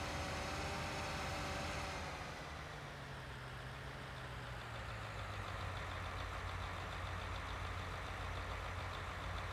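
Two-track tractor engine in Farming Simulator 19: a steady, moderately loud diesel drone with a low pitch that drops slightly as the machine drives along, with no talk.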